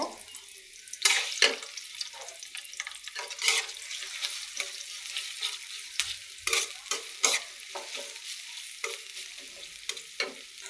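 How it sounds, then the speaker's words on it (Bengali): Onions and green chilies fry in a pan with a steady close sizzle, while a spatula scrapes and stirs in repeated sharp strokes throughout; no one speaks. "দিয়ে দেবো কাঁচামরিচ, পেঁয়াজ কুচি। দিয়ে এখন আমি ভালো করে নেড়ে নেব।"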